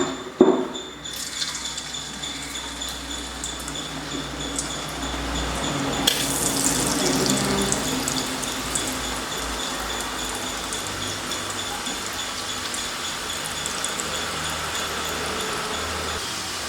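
Ragi murukku dough pressed into hot oil, giving a steady bubbling sizzle throughout, louder and denser after the first few seconds.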